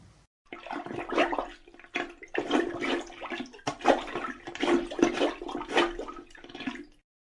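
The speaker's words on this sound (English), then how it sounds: "why don't we listen to the sound a plunger makes in a toilet?" A plunger works a clogged toilet, with rhythmic wet sloshing and gurgling surges in repeated strokes, close and loud, separated by brief pauses and free of speech.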